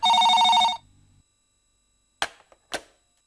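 A telephone bell rings in one loud, sustained burst that cuts off abruptly, followed by a pause and a couple of faint clicks, as in a handset being picked up in a Tamil film scene.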